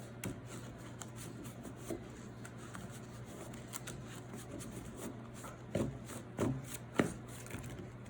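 Soft, continuous riffling and rustling of playing cards, with a few louder flicks and snaps toward the end, close by against a steady low hum.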